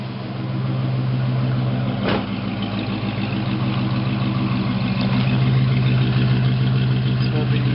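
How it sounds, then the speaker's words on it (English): A 1955 Imperial sedan's Hemi V8 idling steadily through dual exhaust with a deep, even burble, close and continuous, with faint voices underneath. "Fabulous dual exhaust."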